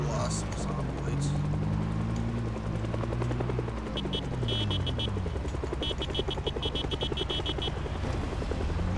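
Helicopter rotor chopping continuously and loudly in Project Zomboid, a steady throbbing drone that swells as it passes overhead, while a voice talks over it and faint rhythmic clicks sound in the background.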